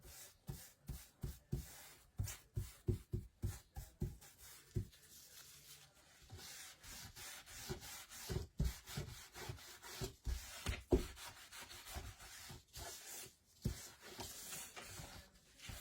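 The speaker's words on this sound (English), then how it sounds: "sanding is the worst part. I hate sanding." Rhythmic hand sanding strokes rasping against wood, close up, coming in quick bursts with short pauses between them.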